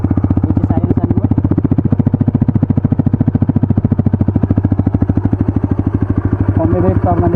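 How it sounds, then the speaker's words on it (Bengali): A TVS Raider 125 motorcycle idles close by, its exhaust giving a steady rapid thumping putter that holds even throughout. "সাইলেন্ট স্টার্ট হয় বাইকটি। এই যে সাইলেন্সার নোট"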